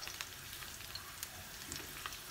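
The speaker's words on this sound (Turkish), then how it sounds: "Yağımız ısındı. Şimdi içerisine biberleri de ilave edeceğim." Dried peppers and garlic frying in hot oil give a steady, soft crackling sizzle with scattered small pops, fairly quiet and close, with no talking.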